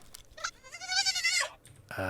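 A sheep in the video game Palworld lets out a single drawn-out, wavering bleat, close and clear, followed by a short burst of game noise.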